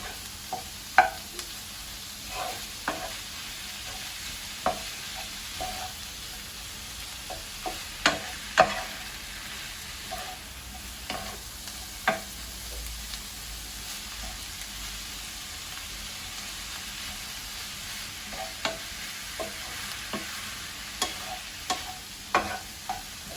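Minced kofta meat is stirred in a pan while it releases its juices: scattered scraping clicks from the stirring over a soft, steady sizzle, fairly quiet and close, with no voices.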